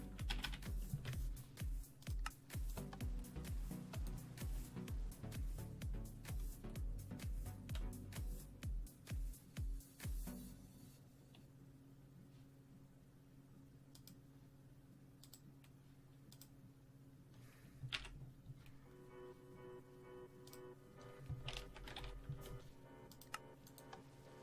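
Rapid typing on a computer keyboard, dense clattering keystrokes for about ten seconds, then quieter scattered taps with a few louder key presses, heard close and alone.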